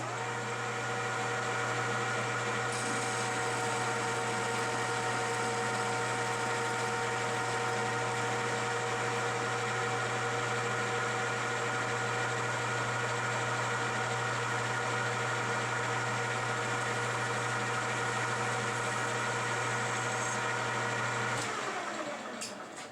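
A lathe with a cutoff tool plunges a heavier cut into the workpiece, giving a steady loud tonal hum and whine that holds for about twenty seconds before abruptly stopping; no speech.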